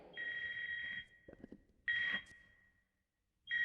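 Cartoon cell phone ringing from inside a man's back, repeated electronic ring bursts with short gaps, briefly broken by a faint voice between rings.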